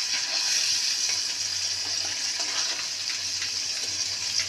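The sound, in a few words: fish added to spices frying in a pan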